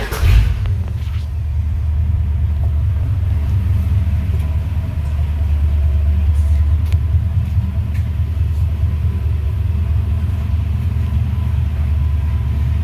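1986 Dodge D-100 long-bed drag truck idling after starting, its engine making a heavy, steady low rumble with the cooling fans whirring alongside, close and continuous for several seconds.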